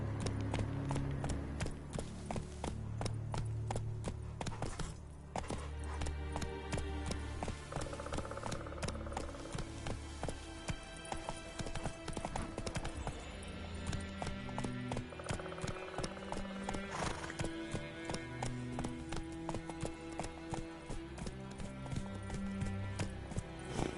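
A horse gallops in The Witcher 3: Wild Hunt on PS5, with rapid, rhythmic hoofbeats running steadily throughout, occasional neighs and snorts, and game music and effects mixed in underneath.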